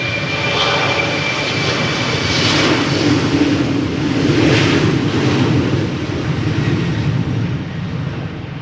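A KLM Embraer 190 jet takes off at Amsterdam Schiphol Airport, its engines roaring in a loud, steady, broadband rush that swells and slowly fades without any talk.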